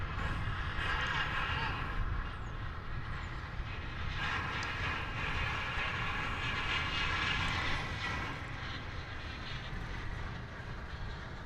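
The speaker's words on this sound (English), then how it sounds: "What you hear there is that that baggage cart train banging around." Empty airport baggage cart train at DFW rattling and banging continuously with a broad, steady clatter, while someone talks over it and aircraft noise hangs in the background.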